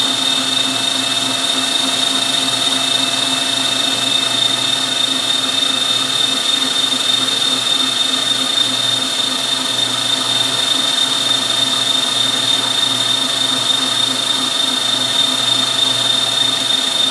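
An electric hand mixer beats carrot cake batter with a steady, close motor whine and an even buzzing drone that runs unbroken throughout, with no talking.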